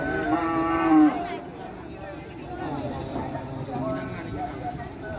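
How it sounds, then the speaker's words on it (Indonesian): Cattle lowing loudly at a Karapan Sapi bull race in Bangkalan, one drawn-out moo up front, then crowd babble and talk continuing underneath. "ada apa dengan sapi JM?"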